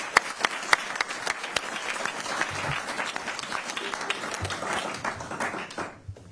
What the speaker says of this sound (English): give them a round of applause for their music